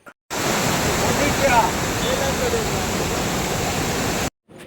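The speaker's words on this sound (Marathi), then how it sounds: "पुढे एक छोटंसं धबधबा होतो" A small waterfall in the Konkan countryside pours with a loud, continuous broadband rush, heard close and alone, then cutting off abruptly at the end.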